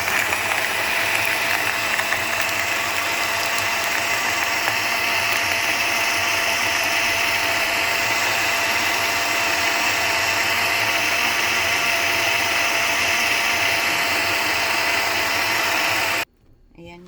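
A kitchen blender runs continuously, blending strawberry, Yakult and water with a steady, loud whirring and grinding drone that cuts off sharply at the end.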